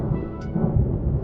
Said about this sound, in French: Et puis, il y aurait les orages.